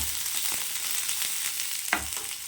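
Curry leaves and a few pieces of coconut sauté in oil for a fish curry, giving a steady close sizzle with occasional scrapes and one sharper knock.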